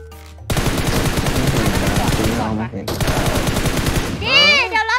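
Sustained automatic gunfire in the video game PUBG, loud rapid bursts of shots running for several seconds with a short break, followed by a voice talking near the end.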